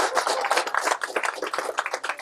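An audience applauding at a FAMU football classic press conference, a dense burst of many hands clapping together, close and fairly loud, with no talking over it.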